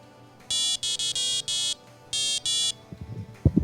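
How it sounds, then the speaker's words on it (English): A small electronic buzzer driven by an Arduino, picked up right beside the board, sounds a bright, close series of about seven short, shrill beeps in an uneven pattern, followed by faint handling clicks. "So I'll actually put the microphone next to the buzzer so you can hear it, and I'll reset the Arduino."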